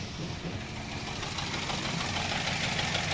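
A misfiring car engine with the engine warning light on idles with an uneven, knocking chug, its rough running steady and close throughout.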